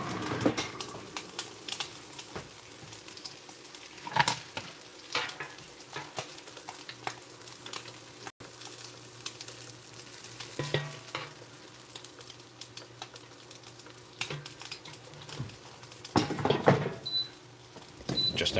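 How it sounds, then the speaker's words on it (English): A pan of St. Louis ribs frying, with steady sizzling, scraping and clattering as the grease is poured out and the pan is handled. Several louder knocks stand out from the bubbling, and no one speaks. "Just emptying some of the grease out of there so it doesn't smoke up"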